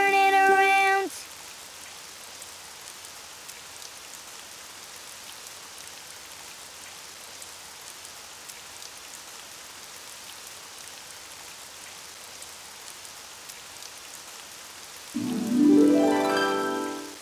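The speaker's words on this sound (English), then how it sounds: "It's raining outside." Rain falls outside in a soft, steady hiss and patter that stays faint for about fourteen seconds, with brief bright musical tones before and after.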